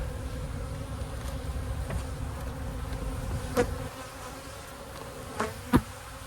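Honey bees buzz around open boosted hives during a light nectar flow, a dense, steady drone that thins out midway, with a few brief knocks and clicks near the end.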